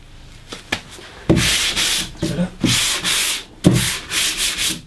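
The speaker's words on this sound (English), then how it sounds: "We're just hand sanding a little bit of 120" Sandpaper of 180 grit rubs by hand across primed wood in close, loud strokes, several rasping passes of uneven length separated by short pauses, with no talking.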